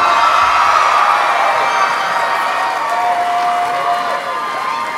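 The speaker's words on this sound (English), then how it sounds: "How about a big round of applause for our top 15?" A large pageant audience at Miss Teen USA 2011 applauds and cheers loudly for the top 15 contestants, a dense, steady wash of clapping and shouting that fades slightly toward the end.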